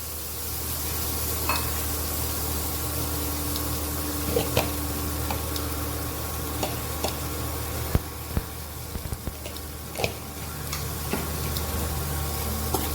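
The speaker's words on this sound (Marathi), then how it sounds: "ह्याला आता चांगलं आपण परतून घेऊया आणि शिजवून घेऊया" Potatoes sautéing in a pan for a stuffed chilli recipe, a soft steady sizzle with scattered clicks and scrapes of stirring, close and continuous without talk.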